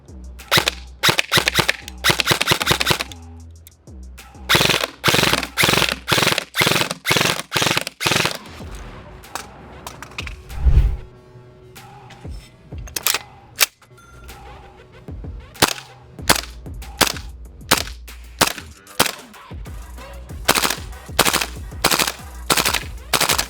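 Gas and electric airsoft rifles firing on full auto, loud close bursts of rapid snapping shots with short pauses between strings of fire.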